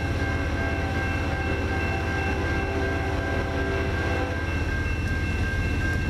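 A CN freight train passing at Ladysmith gives a steady, loud rumble throughout, with a sustained horn-like tone running over the continuous wheel and engine noise.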